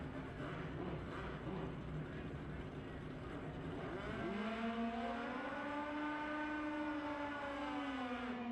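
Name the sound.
drag racing motorcycle revving up at high RPM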